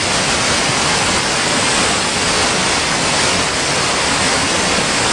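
Waterfalls in the Manpokdong valley of Geumgangsan roar in a steady, dense, loud wash of rushing water with no pauses and no voices.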